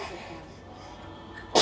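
A single sharp sneeze bursts out at the end after a quiet, near-silent stretch.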